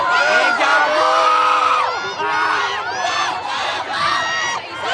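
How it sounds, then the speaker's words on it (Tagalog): A large concert crowd at JBL Soundfest 2024 shouts and cheers together in loud, sustained bursts, with a brief dip between waves of high-pitched yelling. "Parinig nga ng sigaw, isa pa!"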